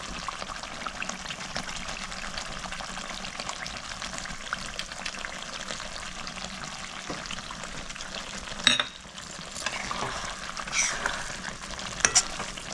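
Fried onion beresta is stirred into a rui fish korma in a pan, a steady low simmering sizzle with wet scraping strokes that grow more pronounced near the end.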